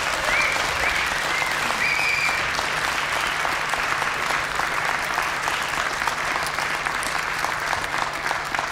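A festival concert audience applauds for a live band, a dense, steady clapping that holds at an even level for the whole stretch.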